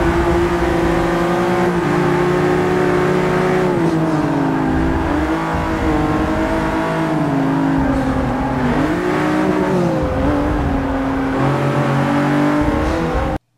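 A Lotus Exige S sports car drives hard on a track, its engine droning loudly and steadily for the whole stretch, with pitch rising and dipping through gear changes and throttle lifts.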